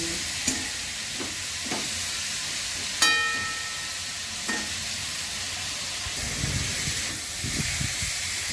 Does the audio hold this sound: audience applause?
no